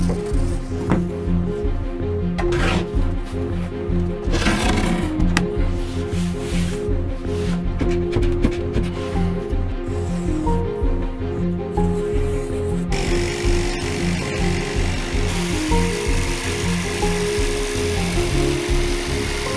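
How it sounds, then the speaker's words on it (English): A jigsaw cuts a kite shield shape out of wooden board, giving a loud, close, continuous buzzing and rattling chatter that changes in tone as the cut goes on, with no talking. "then trace the shape and cut it out with a jigsaw"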